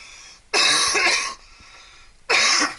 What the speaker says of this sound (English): I feel like I'm going to cough again.